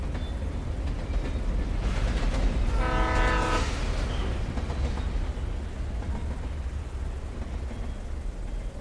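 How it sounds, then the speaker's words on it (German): Train crossing a railway bridge in the video game Alan Wake: a steady rumbling roll with a distant horn blast swelling and fading in the middle, no talk. "Da fährt ein Zug drüber."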